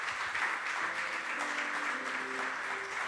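A church congregation applauds together in sustained, dense clapping that fills the whole stretch evenly, with a few faint voices and tones underneath.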